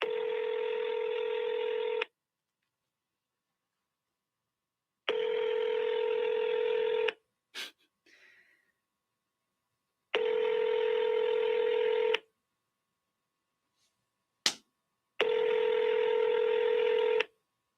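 A telephone call rings out: four evenly spaced ringback tones, each about two seconds long, with silent gaps and a couple of faint brief clicks between them.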